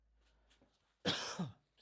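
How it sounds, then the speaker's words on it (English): A single harsh cough bursts out close up after a moment of near silence, followed by a brief trailing breath. "Coughing in your ears."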